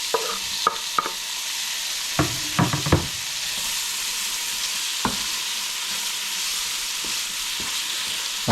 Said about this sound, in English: Fry it, and then I want to add my tomatoes